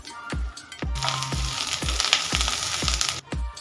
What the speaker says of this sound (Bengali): এক চামচ আদা রসুন কাঁচা লঙ্কা বাটা হালকা ভেজে নেব